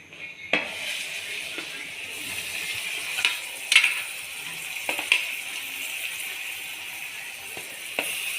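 Chopped onions frying in a pan for pav bhaji, a soft steady sizzle with scattered scraping clicks of stirring, moderately close and without talk.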